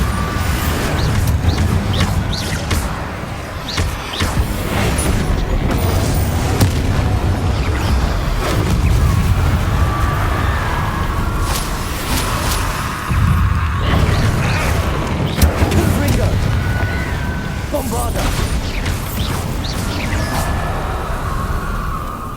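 Confringo and Bombarda spells exploding in Hogwarts Legacy amid combat, a dense run of booming blasts, crackling bursts and rumbling impacts, loud and close, with no voices over it.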